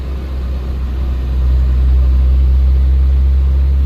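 A tractor engine drones steadily as it climbs a rough track, a loud low rumble that swells slightly partway through, with no talking over it.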